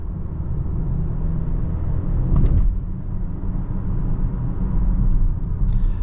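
A Volvo XC40 T5 R-Design SUV cruises with a steady low engine and road rumble heard from inside the cabin, swelling briefly partway through, with no voices.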